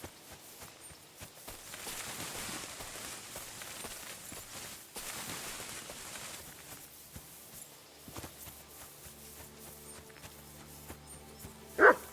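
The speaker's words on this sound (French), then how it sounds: "Des aboiements? Ça vient de là-bas." A dog barks several times in the distance in the game Kingdom Come: Deliverance II, mixed with footsteps and hoof-like clopping in an ambient soundscape, ending with a sharp louder sound.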